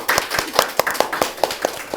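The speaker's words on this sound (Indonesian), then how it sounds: "kita kasih tepuk tangan dulu" Podcast audience clapping in a studio, a sparse handful of distinct hand claps in a loose, uneven rhythm, close and fairly loud.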